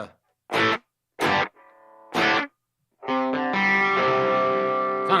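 A high-gain metal guitar tone through a Mesa Boogie MKII C+ amp simulation. Short distorted stabs are separated by silence, then a sustained, heavily saturated chord rings out loud and close.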